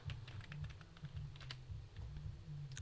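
Typing code on a computer keyboard, a steady run of quick key clicks with irregular rhythm over a low background hum, close to the microphone and without speech.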